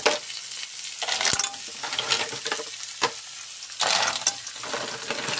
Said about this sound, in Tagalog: Lagay na natin ang tahong